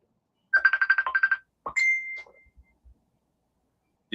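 A mobile phone ringtone plays a quick chiming melody of about ten bright, evenly spaced notes, followed by a higher sustained electronic tone and a few soft clicks, fairly close and alone without talk.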